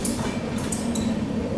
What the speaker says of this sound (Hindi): यहाँ पर वेब 5 के साथ आती हुई हजरत निजामुद्दीन कोल्हापुर सुपरफास्ट एक्सप्रेस